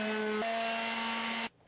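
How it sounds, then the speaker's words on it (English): A power sander whirs steadily against the edges of a butcher block wooden countertop with a constant hum and gritty hiss, then stops abruptly. "Lightly sand the edges as well."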